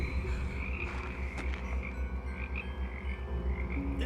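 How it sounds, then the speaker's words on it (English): Frogs croak in a dense, continuous chorus heard in a short horror film, a loud rhythmic throbbing drone with higher trilling calls layered on top and nothing else breaking through. "Ew, frogs?"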